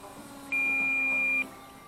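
A single steady electronic beep from an aircraft instrument during a flight, lasting about a second over a low engine drone and cabin hum.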